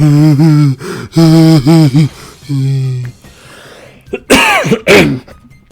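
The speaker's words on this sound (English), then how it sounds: "You ever cough so hard that you hiccup a little? That happened to me just now." A voiced noises give way to a hard, close cough burst and then a quick hiccup-like catch, loud and near, with pauses between.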